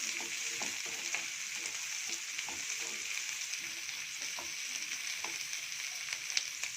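Chopped onions fry in oil in a pan, making a steady, fairly quiet sizzle with light scraping and tapping of a stirring spoon throughout.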